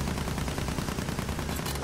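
Dense, continuous gunfire and battlefield noise from the Battlefield 1 video game, a steady rattle of shots with low rumble throughout, fairly loud and busy with no clear talk.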